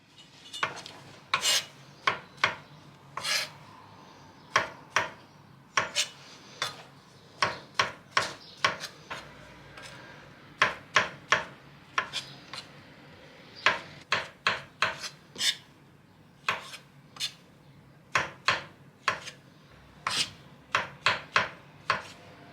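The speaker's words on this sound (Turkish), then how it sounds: "Önce mantarları soteleyeceğim için onu doğramakla başlıyorum." Repeated sharp knife chops through mushrooms on a wooden board, in irregular bursts of quick strikes with short pauses, close and clear with no talking.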